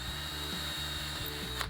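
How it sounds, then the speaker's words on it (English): A drill bores a small-diameter hole through a wooden pallet slat, a steady motor whine with a pulsing, chattering rhythm that cuts off abruptly near the end, close and moderately loud, with no speech. "I'm just going to drill a small diameter hole through at the end or near the end of the slats"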